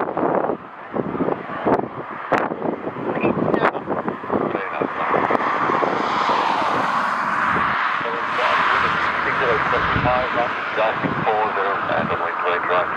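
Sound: American Airlines flight 723 departing Dublin Airport in storm

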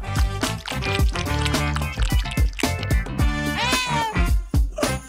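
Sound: cats meowing

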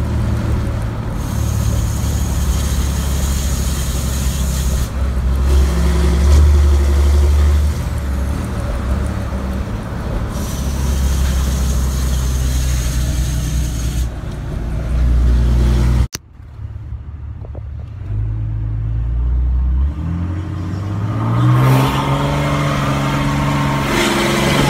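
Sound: Cummins 6.7 diesel truck, EGR delete, straight-pipe turbo-back exhaust

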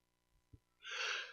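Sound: sneeze

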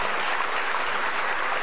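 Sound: audience applause after song

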